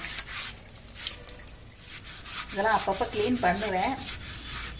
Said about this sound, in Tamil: இந்த மாதிரி கம்பி நார் வச்சுட்டு தான் தேய்க்கணும்